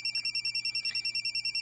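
A mobile phone rings quietly during a call, a steady electronic ringtone pulsing in a fast even rhythm, faint and continuous with no voices over it.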